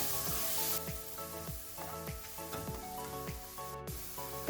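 Chopped onion and garlic sautéing in a pan for vegetarian Arabic Buhari rice, a soft, close sizzle with repeated light scrapes and stirring taps in an uneven rhythm, no talking.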